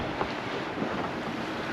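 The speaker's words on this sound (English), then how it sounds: "So we've got 22 knots of wind, and you know that really powers the boat through." Strong 22-knot wind buffeting a Hallberg Rassy 44 sailboat under way at sea, a loud continuous roar of wind noise and rushing water with no voices.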